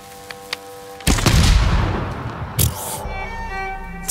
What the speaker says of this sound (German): Und dann schießen wir da mit einem Explosionspfeil rein